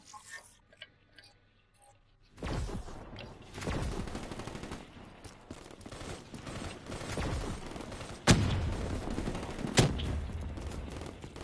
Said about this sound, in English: just keep shooting at it